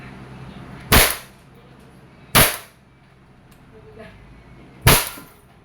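Three sharp shots from an Umarex Glock 17 Gen 5 pellet airgun fired at a can, each a crisp snapping crack spaced over a couple of seconds, loud and close with quiet between.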